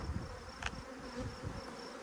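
Honey bees hum inside a hive box during queen grafting, a soft continuous drone with a few nearer buzzes passing by, fairly quiet and without talk.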